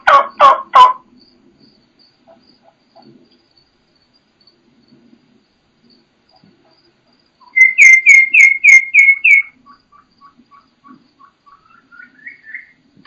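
Wild turkey hens in western country: a quick loud raspy burst opens, followed by a string of clear, high, whistle-like kee notes, then fainter rising peeps tapering off in a quiet outdoor setting.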